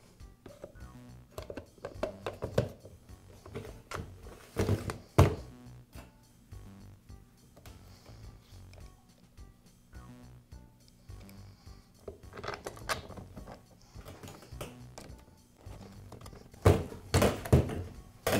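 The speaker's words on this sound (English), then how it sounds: "Now I'll reinstall the Nosepiece cover and finish up by reinstalling the magazine." Parts of a Max roofing nailer being refitted, the nosepiece cover and then the magazine going back on, give scattered close clicks, taps and plastic-metal thunks, with a louder cluster of knocks near the end.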